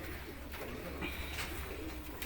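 A pigeon coos softly at a distance, a faint, low murmuring call over quiet background hiss.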